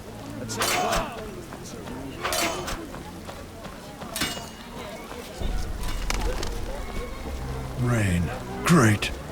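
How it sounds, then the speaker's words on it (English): Rain in The Witcher video game, a steady soft patter running in the background while characters speak over it and several footsteps and other game sounds come and go. "Rain. Great."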